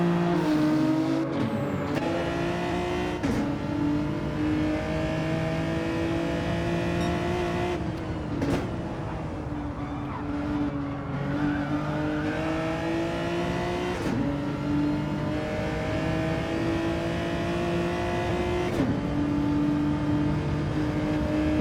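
Several GTR race cars roar flat out in a Gran Turismo 7 DTM race, their engines revving and shifting up through the gears in loud, close, overlapping waves.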